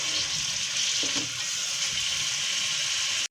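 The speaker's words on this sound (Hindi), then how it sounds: "इसको हम भून लेंगे।" Chicken and vegetable filling for samosa rolls fries in a pan, a steady broadband hiss and sizzle throughout with a brief stirring scrape, ending abruptly.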